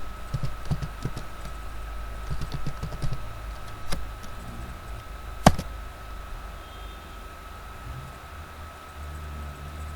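Keys on a computer keyboard clatter in a short burst of quick typing near the start, then a few isolated clicks and one sharper tap over a steady electronic hum.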